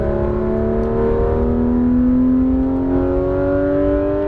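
Porsche 911 GT3 RS (991) accelerating at full throttle on a racetrack, engine note rising steadily from inside the car, loud and continuous with a strong rising tone and no voices.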